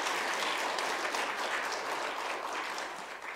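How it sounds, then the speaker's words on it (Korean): A church congregation at a Sunday afternoon service applauds its women members, a steady, even wash of many hands clapping at moderate distance, sustained for over three seconds before easing off slightly. "여신도들에게 여러분 박수 한번 쳐주십시오."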